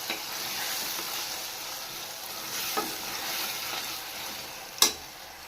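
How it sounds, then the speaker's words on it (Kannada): Ground spice paste with mint frying in a pan, a soft steady sizzle with a few faint scrapes of a stirring spoon and one sharper clink near the end, no talking. "ಹಸಿ ವಾಸನೆ ಹೋಗೋವರೆಗೂ ಚೆನ್ನಾಗಿ ಫ್ರೈ ಮಾಡ್ಕೋಬೇಕು"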